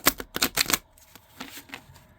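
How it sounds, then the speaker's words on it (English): Tarot cards being shuffled by hand, a quick burst of crisp riffling flutters up front that tapers into softer, scattered card slaps and rustles, close and alone. "That was not the greatest shuffle."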